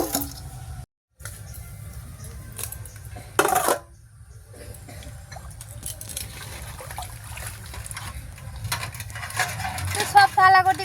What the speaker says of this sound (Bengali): তো দেখো থালাকটি কটা মাজা হয়ে গেল